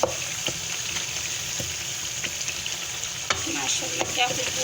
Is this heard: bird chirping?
no